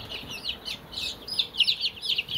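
Chickens and young chicks cluck and peep in a brooder pen, with quick, repeated high chirps coming in short bursts close by and growing busier toward the end.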